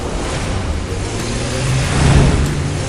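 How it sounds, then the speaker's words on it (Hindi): A cartoon car revs up and accelerates during a getaway from a chasing alien, a steady engine roar building louder toward the end. "वो तुरंत गाड़ी को और तेज करता है"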